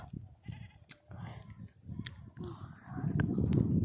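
Goats bleat a few times amid outdoor murmuring and movement, with the sound growing louder and busier toward the end.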